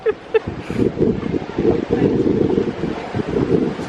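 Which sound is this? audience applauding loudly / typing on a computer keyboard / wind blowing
wind blowing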